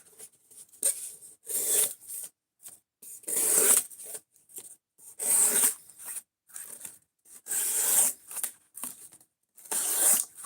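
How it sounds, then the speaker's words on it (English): A knife slices through cardboard in an edge retention test, with about eight rasping, tearing strokes that come in an uneven rhythm and have short silent pauses between them. "We're looking to see how long we can cut up cardboard before the edge on this knife is just totally fucked up"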